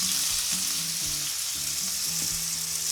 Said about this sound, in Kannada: ಈಗ ಈರುಳ್ಳಿ ಹಾಕ್ಕೊಳ್ತಾ ಇದ್ದೀನಿ.